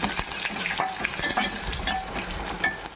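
Turmeric and three small garlic cloves fry in hot oil for a bitter gourd spice powder. The sizzle is busy and close, broken by frequent clicks and scrapes of stirring, and no one speaks.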